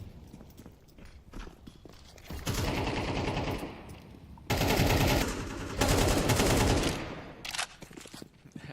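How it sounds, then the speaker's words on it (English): Bursts of AK rifle fire in a Counter-Strike match, loud rapid automatic volleys in two long sprays separated by a short pause, with quieter scattered shots before and after. "AK's spamming through the window"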